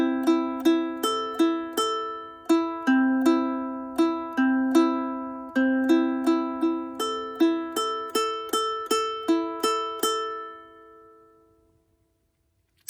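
Open guitar strings plucked one at a time with no fretting, a steady run of about two dozen clean, ringing notes in a simple melody that ends and fades out alone, with no talking.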